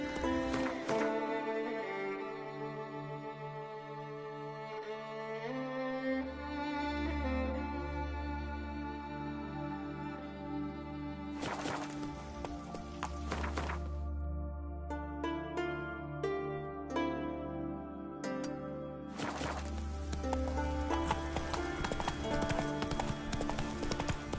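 Video-game horse Roach galloping, a rapid rhythmic clip-clop of hooves running steadily under loud orchestral music, with a brief whinny-like call among the hoofbeats.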